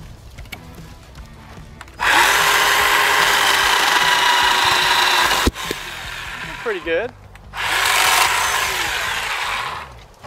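A Harbor Freight Bauer 20v cordless chainsaw cuts through tree limbs in two loud, sustained buzzing bursts, separated by a short pause in which someone briefly speaks.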